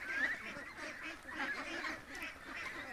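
Ducks being fed by a swamp quack and honk in overlapping bursts, a busy flock chattering at moderate distance in a steady irregular rhythm.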